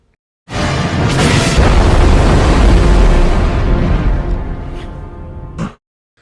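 A loud, sustained explosion from the science-fiction film The Fifth Element, a deep booming roar that swells suddenly, rumbles heavily for about five seconds with crackling debris, then cuts off abruptly.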